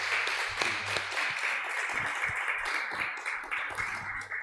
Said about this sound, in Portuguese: receba, Senhor, as nossas palmas, em nome de Jesus